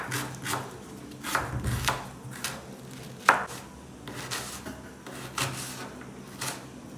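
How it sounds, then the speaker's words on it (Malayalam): Onion, ginger and garlic being finely chopped with a knife for aloo paratha filling, with a series of soft, irregular blade taps on a board, close and fairly quiet, no talking. "സവാളയും ഇഞ്ചിയും വെളുത്തുള്ളിയൊക്കെ ഒന്ന് അരിഞ്ഞു വെക്കാം നമുക്കെല്ലാം ഈ സമയം"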